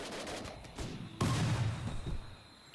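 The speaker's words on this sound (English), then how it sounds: "Now the guns open up." A burst of gunfire in the colony game Rimworld, quiet at first with a few muffled shots, then a sharper, louder volley of rapid reports that trails off, with no talking.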